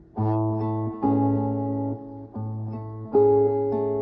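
Guitar strings plucked with thumb and fingers in repeated groups, top string and bottom two together, several notes struck at a steady pace and left ringing, close and clear with no speech.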